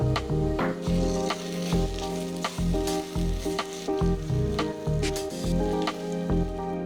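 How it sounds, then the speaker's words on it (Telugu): Onions and ginger-garlic paste fry in a cooker for chicken kurma, giving a steady close sizzle broken by regular stirring scrapes over a faint tonal backing, with no talking. "రెండు టీ స్పూన్ల అల్లం వెల్లుల్లి పేస్ట్ వేసి పచ్చివాసన పోయేంత వరకు వేపాలి"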